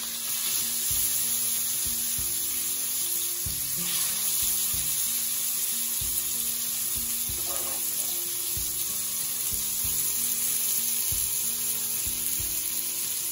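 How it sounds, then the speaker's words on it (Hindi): Snakehead (murrel) fish pieces fry in a pan with steady, continuous oil sizzling and crackling throughout, close and fairly loud, with no talking. "और इसे भी अच्छी तरीके से फ्राई कर लेना है"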